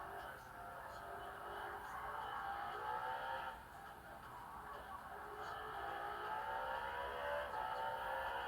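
Renault Alpine car engine in Gran Turismo 7, a steady, sustained drone with rising and falling tonal sweeps as the revs change, continuous throughout at moderate level.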